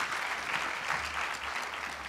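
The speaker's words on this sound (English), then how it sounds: "they do deserve another round of applause because that was an incredible session" Audience applause after a conference session, a steady wash of many hands clapping at moderate distance, even and sustained throughout.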